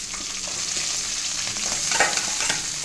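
Chana dal, urad dal and chillies fry in a pan with a steady close sizzle, broken by soft stirring scrapes and a brief louder crackle near the end.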